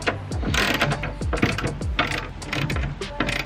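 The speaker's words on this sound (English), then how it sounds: "The last thing we're going to do is just tighten down all the bolts." Ratchet wrench tightening the bolts on a MOLLE panel mounted in a Toyota Tacoma truck bed, a steady run of rapid metallic clicks in repeated strokes, close and loud with no talking.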